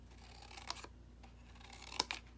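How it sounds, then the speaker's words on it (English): Scissors cut notches in the paper of a paper pumpkin craft kit, a few faint, close, crisp snips separated by quiet pauses, with no talking. "Again, cut those notches."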